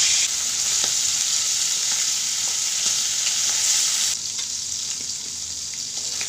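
Fresh tilapia fish frying in mustard oil in a village kitchen, a steady loud broadband sizzle with faint stirring clicks, easing slightly quieter near the end, no voices.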